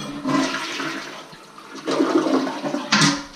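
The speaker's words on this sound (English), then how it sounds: "So I like to flush a bunch of times just to make sure it's not leaking." A toilet flushes right after a new wax ring is installed, a loud close rush of water that swells, eases briefly, then surges again before ending.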